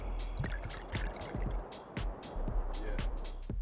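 El Silencio mezcal being poured for a mezcal Negroni cocktail, a close, quiet liquid pour with repeated drip-like splashes and gurgles at an uneven rhythm, with no talking.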